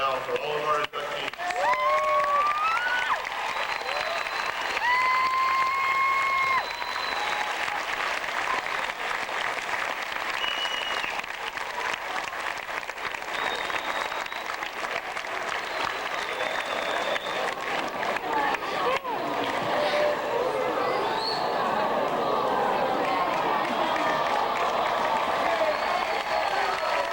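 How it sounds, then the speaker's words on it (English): Audience applause for inductees at a high school wall of fame ceremony, a steady crowd clapping that lasts throughout, with birdlike whistle tones and faint voices mixed in. "How about one more round of applause now for all of our inductees?"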